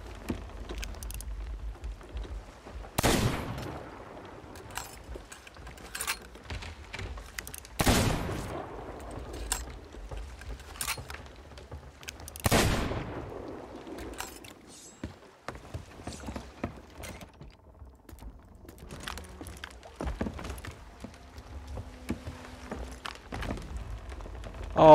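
In Sea of Thieves a ship is blown apart by a series of loud booming blasts spread over the clip, with crackling debris and splashing between them against a quiet watery background.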